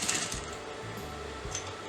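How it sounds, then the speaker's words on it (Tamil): A sewing machine stitches a half collar onto the neckline of a garment, running in short mechanical bursts with a clicking, whirring rhythm, close and fairly quiet. No talking. "இங்கே நான் தைக்க போகிறேன்."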